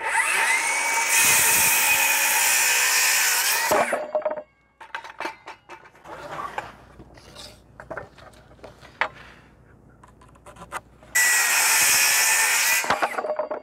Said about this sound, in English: This is what I'm going to drill the axle through.